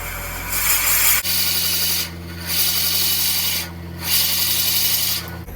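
Loud, continuous grinding and rasping of a drill boring into butternut wood on a lathe running at about 400 RPM, with a steady motor hum and rhythmic dips in the noise.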